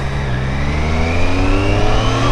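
A 2025 Triumph Street Triple 765 R motorcycle accelerates hard with a loud, close engine. Its pitch climbs steadily in one continuous pull.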